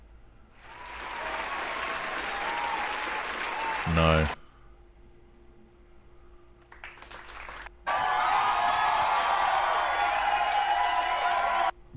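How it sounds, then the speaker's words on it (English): Crowd cheering and applause sound effects played back one after another, a dense roar of many voices and clapping, broken by a short spoken voice and a quiet gap before a louder second take. "Which one sounds more like a natural crowd cheering at war news?"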